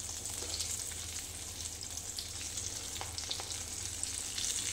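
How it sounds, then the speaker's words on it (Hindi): Stuffed chillies deep fry in hot oil in a kadai, giving a continuous close, bright sizzle and crackle with no talk. "तो चलिए अब इसको फ्राई करते हैं, डीप फ्राई करूँगी मैं।"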